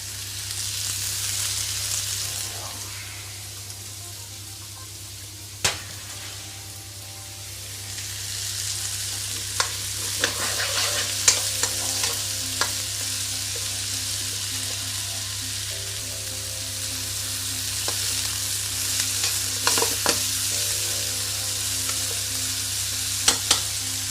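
Chopped onions sizzle steadily in a hot pan after salt is added, a continuous frying hiss broken by occasional sharp scrapes and clinks of a spoon stirring, with no talking.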